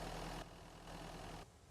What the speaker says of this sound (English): Turn off the engine.